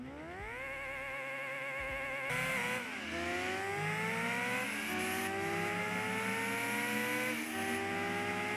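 Racing cars roar through the Gran Turismo game on PlayStation 1, engines revving and shifting up through the gears in steady rising sweeps, loud and continuous, with brief tire squeals and no talking.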